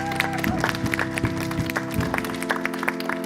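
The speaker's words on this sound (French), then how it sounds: "on l'applaudit" An audience at a stage show applauds a factory worker called to the stage, with scattered, uneven hand claps over a steady musical hum in the background.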